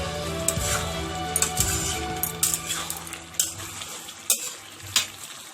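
A spoon scrapes and clanks in a pan of sizzling chicken and potato curry, stirring with a steady frying hiss beneath. Metallic knocks come louder toward the end, close up, with no voices.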